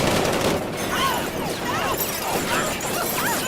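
A volley of gunfire rattles out in a continuous barrage of overlapping shots and crackles with chaotic crashes, loud and sustained over several seconds.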